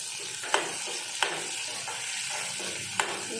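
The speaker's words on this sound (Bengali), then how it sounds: "পেঁয়াজগুলো আমার ভাজা ভাজা হয়ে গেছে প্রায়।" Onions, chopped tomato and green chili frying in a pan for a spicy tilapia curry, a soft steady sizzle punctuated by three sharp spatula knocks against the pan.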